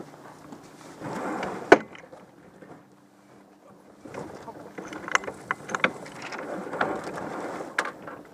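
A J24 sailboat's winch ratchets in clustered bursts of sharp clicks while tacking, with gaps between the bursts and faint voices in the background.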